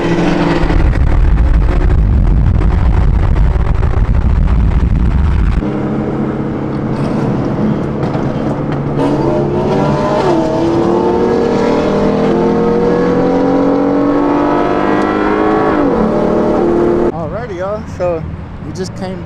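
BMW 340i and Cadillac ATS-V street racing for money, engines screaming at full throttle, first a deep roar, then higher revving with gear changes as the cars pass, loud throughout with people shouting over it.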